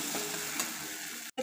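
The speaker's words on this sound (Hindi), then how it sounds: "मसाला अच्छी तरह से फ्राई हो चुका है," Masala spices fry in hot oil while cooking okra, giving a steady close sizzle with a brief stirring scrape before it cuts off abruptly.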